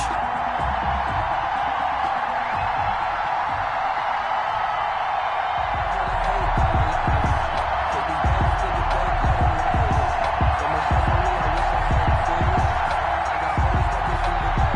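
Continuous stadium crowd roar from a PS4 American football game as Baltimore Ravens and New York Giants take the field, a dense steady murmur with rhythmic thumping chants joining partway through.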